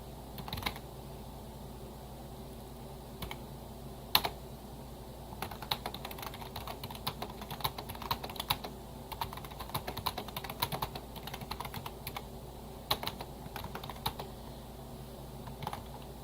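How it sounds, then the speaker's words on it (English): Someone types steadily on a computer keyboard indoors, and the space bar is giving trouble. Quiet, close, irregular clicks run in bursts with short pauses, over a low steady room hum. "I might have to get a new keyboard. The space bar is throwing me off."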